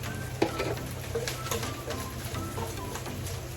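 Onion sizzling as it sautés in a pan for a bangus (milkfish) dish, a steady frying hiss with a few light clatters from stirring.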